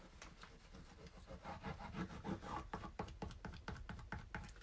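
Steady rubbing and scraping over a drying surface as an old fairy tale book is restored, with repeated back-and-forth strokes that grow firmer and more rhythmic toward the end, close up and with no talking.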